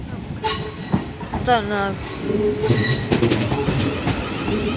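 A Class 450 electric multiple unit, a five-carriage set, pulls into a platform at London Waterloo, its rumble and wheel squeal filling the station, with someone speaking briefly over it.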